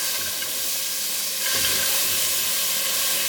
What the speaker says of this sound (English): So I'm gonna saute my onions first.